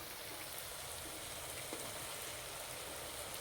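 Jalebi batter frying in oil over low heat, a steady, soft, even sizzle with no break, no speech and no other sounds.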